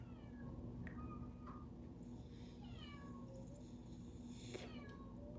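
Two cats meow outside a window, trading several faint, drawn-out calls and a few short sharp ones over a quiet steady hum, with no one talking.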